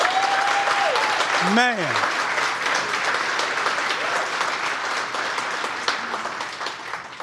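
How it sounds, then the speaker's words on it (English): Audience applause for a man at a street conversation event, a steady wash of clapping throughout with a voice calling out and a brief whistle-like sweep near the start. "Can I get one more clap for this brother here?"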